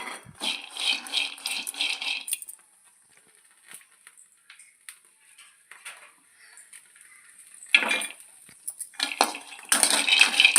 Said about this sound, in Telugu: ముందుగా పల్లీలు వేయించుకుందామండి